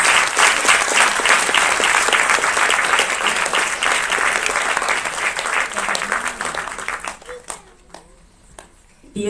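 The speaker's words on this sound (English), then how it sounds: "Can we have another round of applause for him?" An audience at a solo classical dance performance event applauds for the dancer, loud dense clapping that holds steady and then tapers into scattered claps and a quiet murmur with brief voices near the end.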